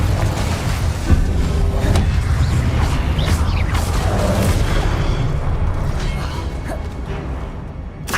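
A Confringo explosive spell blast from Hogwarts Legacy rumbles as a loud, sustained, booming roar that fills the whole stretch without any voice.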